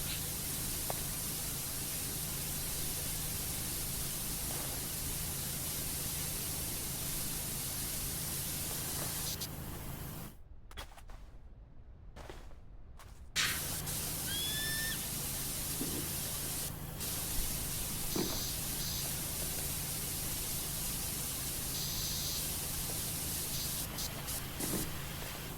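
Steady, broad hiss of a pressure washer spraying in the PowerWash Simulator game, continuous and fairly loud, cutting out briefly midway before resuming, with faint pings and small effect sounds over the spray.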